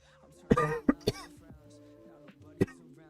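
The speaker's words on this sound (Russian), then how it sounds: "Я кашляю, я болею." A sick person gives a few sharp coughs near the start, then another single cough later, with faint background tones between them.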